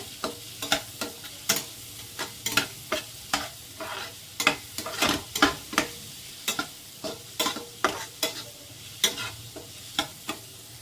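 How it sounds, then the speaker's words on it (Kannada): Jackfruit mixture frying in ghee, stirred steadily with a utensil that scrapes the pan in regular close strokes over a low, constant sizzle. "ಸ್ವಲ್ಪ ತುಪ್ಪದಲ್ಲಿ ಸ್ವಲ್ಪ ಫ್ರೈ ಆಗಬೇಕು."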